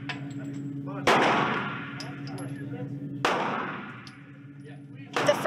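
Handgun shots at a US shooting range: two sharp loud reports with long ringing decay, a third starting at the end, over a steady low hum and faint voices.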